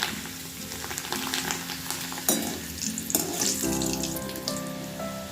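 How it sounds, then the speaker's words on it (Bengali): Papad fries in hot oil in a pan with a dense, constant crackling sizzle and occasional sharper pops and spatters, heard close up with no talking. "আমি ওই জন্য পাঁপড় ভাজছি"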